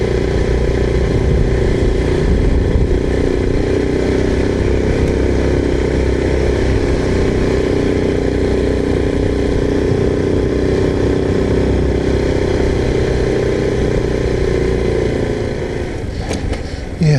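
Honda Cub motorcycles run steadily on a ride to Bedgebury Pinetum, a continuous mid-pitched engine drone with faint revving under wind noise, loud and close throughout.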